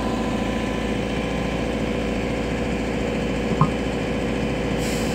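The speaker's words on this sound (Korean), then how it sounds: "엔진 소리도 굉장히 좋습니다." A CAT M314F wheeled excavator with a three-piece boom has its diesel engine running steadily at a low, even idle throughout, a continuous mid-to-low rumble with a brief knock partway through and no talk.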